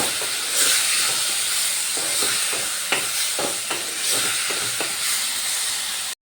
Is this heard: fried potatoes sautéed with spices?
yes